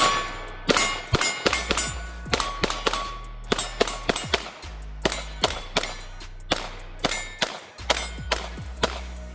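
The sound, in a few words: pistol shooting at steel targets, Sig P365 Fuse with 21-round magazine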